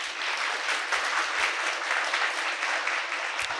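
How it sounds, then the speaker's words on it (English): Steady applause from the audience at a Saint Lucia–Taiwan cultural culinary exchange event, hosted at Sir Arthur Lewis Community College, sustained at an even level for a few seconds with no one speaking over it. "So let's give them a big round of applause."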